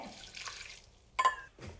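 Water for rice gruel is poured into a cooking pot in a few short, quiet splashing bursts with brief pauses between them.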